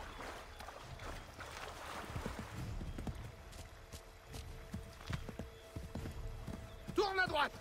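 Horse hooves clip-clop steadily in the video game Assassin's Creed 3, a run of close, crisp hoof strikes that continues under people talking.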